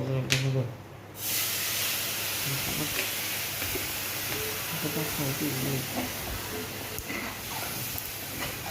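Water poured into oats being stirred in a hot pan for a masala oats paratha gives a steady broadband hiss and sizzle throughout, with a louder burst at the very start.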